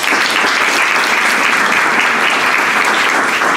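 Applause from a church congregation during a worship service, a dense, steady wash of clapping that holds at an even level throughout.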